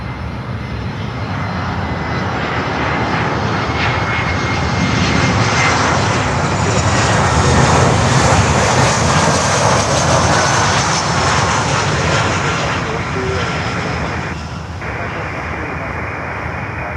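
An American Airlines airliner arriving from Kingston, Jamaica comes in to land at Miami, a loud, broad engine roar that swells and then fades slowly over many seconds, with faint radio chatter underneath.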